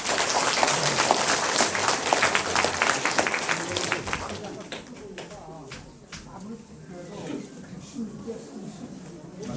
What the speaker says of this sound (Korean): 다시 한번 우리 한번 격려의 박수 한번 쳐줍시다